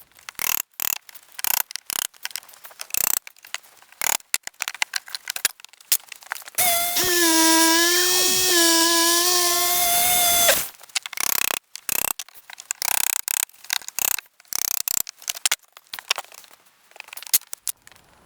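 Demolition of a deck with a Sawzall reciprocating saw, crowbar and hammer: a loud buzzing saw run of about four seconds, framed by scattered knocks, scrapes and creaks of wood being pried apart.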